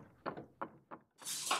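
A door slams shut. A few soft, quick thuds come first, then a sudden loud, broad crash at the end.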